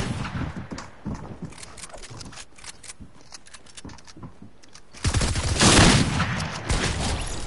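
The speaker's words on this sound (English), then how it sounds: "Rapid fire." Rapid automatic gunfire in the video game Fortnite: a quick train of sharp shots with faint game sounds, then a louder, denser burst of fire during the final seconds.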